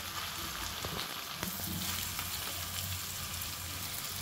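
Prawns fry in a pan for a home-style prawn fry, giving a steady close sizzle and crackle of hot oil with faint stirring scrapes throughout.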